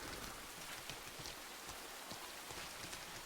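Steady rainfall in a video game, with a soft continuous hiss and faint scattered drops, fairly quiet and even throughout.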